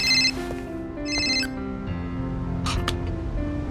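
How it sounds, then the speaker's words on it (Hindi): A mobile phone plays an electronic ringtone for an incoming call, with a repeating melodic pattern of warbling tones and brief chirps. It sounds moderately loud and steady, with no speech. "करण का कॉल"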